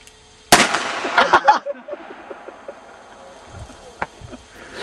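Very loud shotgun blasts fired outdoors. Sharp booms near the start roll off into a long echo, and a smaller crack follows later, with people talking in between.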